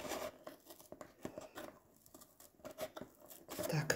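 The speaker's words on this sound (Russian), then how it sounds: "Они так и называются, хобби ножницы." Hobby scissors cutting cardboard, a quiet series of short snips and tearing scrapes in an irregular rhythm, heard close up and faint.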